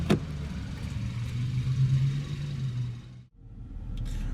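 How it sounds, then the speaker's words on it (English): A 2017 Kia Sorento LX with the base 2.4 L four-cylinder engine drives at a steady low hum, a brief dip near the end, with no talking. "now getting on the road with the 2017 Kia Sorento here"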